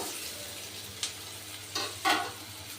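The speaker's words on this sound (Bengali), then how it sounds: "সব মশলাগুলোই আমি একটু ভালো করে কষে নেবো" Spices with salt and slit green chillies frying in a pan for a taro-stolon curry: a faint, steady sizzle, broken near the end by a few short scraping stirs, with no talking.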